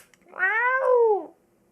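A voice imitates a cat howl, a single drawn-out meowing wail that rises and then falls, about a second long, loud and close, with no other sound around it.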